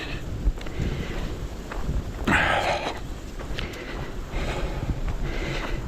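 Wind buffeting a microphone outdoors during a walk, a steady low rumble with gusty swells and a stronger rushing burst partway through.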